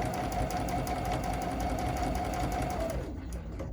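A sewing machine whirs continuously at close range while free-motion quilting a star design on a Mini Stacks quilt, a steady even drone that stops abruptly near the end.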